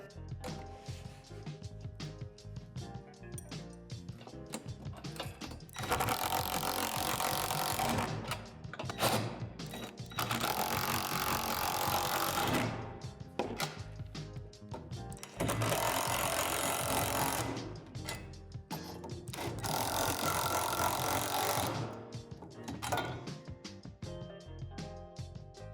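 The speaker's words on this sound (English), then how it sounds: "Now tighten the hardware on the rim." Hardware on a portable basketball hoop rim being tightened with a power tool, heard as four long whirring bursts separated by clicks and clattering handling noises, close and steady.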